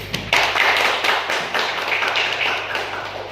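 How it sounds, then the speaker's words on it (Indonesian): Webinar participants clap their hands together in a dense, steady patter of many close taps that carries on for several seconds at a fairly loud level. "mari kita tepuk tangan dulu"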